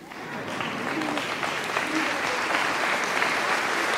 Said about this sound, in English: Would those committee members please stand, and we can give a round of applause